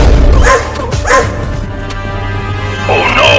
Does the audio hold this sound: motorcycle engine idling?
no